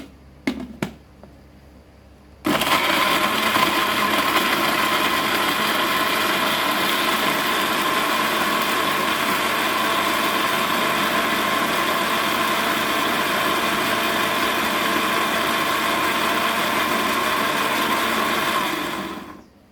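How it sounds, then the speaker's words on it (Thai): After a few brief knocks, a blender motor starts abruptly and runs loud and steady, whirring continuously as it purees chili paste, before cutting off at the end. "จะปั่นไปเรื่อย ๆ นะ จนละเอียด"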